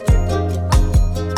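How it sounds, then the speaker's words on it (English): A whirly synth effect in the hook of a pop song, with swooping downward pitch sweeps over sustained tonal chords, loud and close, repeating about three times. "another cool thing that I added here in the hook is this little whirly"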